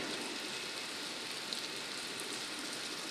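Steady rain falls outdoors in Iraq where laborers keep working through the downpour, a dense, even hiss that holds without pause and with no voices.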